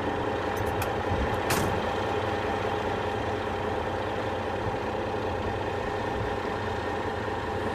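A heavy tow truck idles with a steady low diesel rumble, broken early by a couple of sharp hissing air-brake bursts, in a close, continuous engine bed with no talk.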